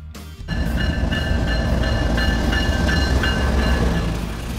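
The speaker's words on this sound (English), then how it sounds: "Military train. Since the 19th century, military trains have transported troops, weapons, and armored vehicles." A military train rolls past steadily and loudly for several seconds, a continuous heavy rumble with periodic wheel clatter and faint metallic squealing, with no voices.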